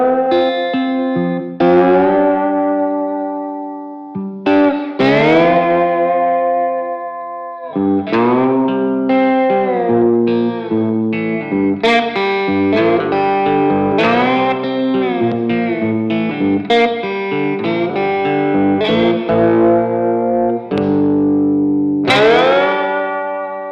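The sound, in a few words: cigar box guitar strings twanged through effects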